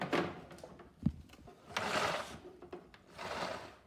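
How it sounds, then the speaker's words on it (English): Someone pulls the power cord of a vacuum cleaner out in several short, scraping and sliding bursts, close and fairly quiet, with a single sharp knock partway through. "let me pull the cord,"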